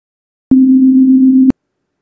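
A plain electronic oscillator tone generated by JavaScript code for a game sounds for exactly one second, a steady pure hum starting and stopping abruptly, loud and isolated in silence.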